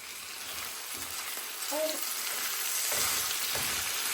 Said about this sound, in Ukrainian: Ковбаски із цибулькою смажаться.